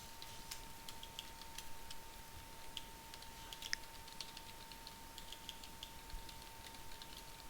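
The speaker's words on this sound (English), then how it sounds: "So you can see a lot more typing involved." Soft, scattered keystrokes tap on a computer keyboard in irregular bursts against a quiet background with a faint steady hum.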